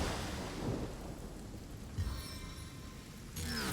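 Heavy rain pours steadily with rolling thunder in the Divinity Original Sin fantasy role-playing game, the storm loud and close, with a sharp thunderclap cracking near the middle and rumbling on.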